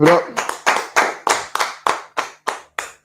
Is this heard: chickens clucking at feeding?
no